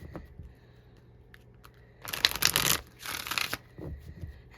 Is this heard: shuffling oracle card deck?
yes